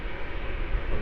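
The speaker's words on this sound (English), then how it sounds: "It's about to taxi into its gate," An airliner taxiing toward its gate at Melbourne Airport, a steady low engine rumble and roar heard briefly and fairly loud.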